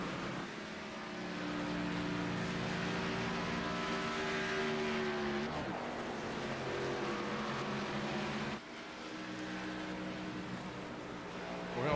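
Race cars lap a track in an amateur racing series, their engines a steady, distant drone that rises and falls as the cars move around the high side, heard alone for twelve seconds.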